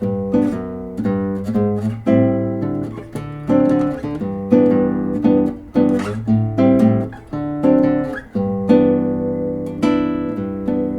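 A guitar strums a chord turnaround in steady four-count rhythm, sustained chords full and close, moving through changes before settling back to G, with no voices.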